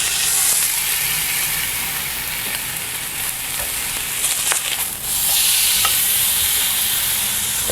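A thick chuck eye steak sears in a pan with a loud, steady, close-up sizzle and hiss that barely changes, apart from a short dip near the middle.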